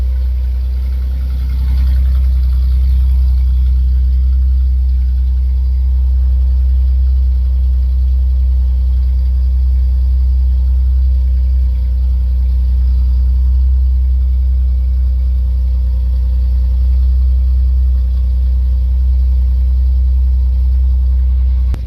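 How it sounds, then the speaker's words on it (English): A 1989 Chevy Celebrity engine idles with a gutted catalytic converter and a cherry bomb muffler, giving a steady, loud, deep exhaust drone that holds evenly throughout with no talking. "It's a gutted cat and I think a cherry bomb muffler or thrush muffler."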